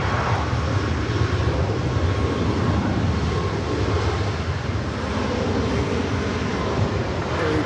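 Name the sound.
airplane taking off from LAX runway 24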